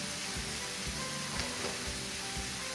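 Steak sizzles steadily in a hot pan, a dense continuous frying hiss with occasional soft pops and crackles throughout.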